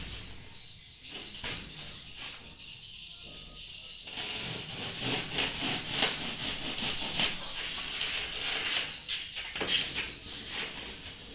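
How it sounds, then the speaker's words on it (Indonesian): Repeated rasping strokes of a saw cutting through foam board, quiet at first then louder and more continuous, with brief pauses between bursts. "Ini diukur di gergaji ya teman-teman."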